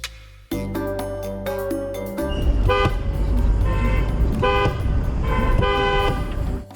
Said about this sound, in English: he went out of turn and kept honking back